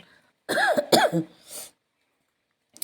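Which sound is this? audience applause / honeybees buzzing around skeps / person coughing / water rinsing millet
person coughing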